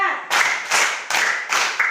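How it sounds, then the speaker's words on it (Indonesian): An elementary school class claps together on a count, with a series of crisp, unison group claps spaced about every half second, each bright burst fading quickly before the next. "Tepuk satu. Tepuk dua. Tepuk tiga. Tepuk 4."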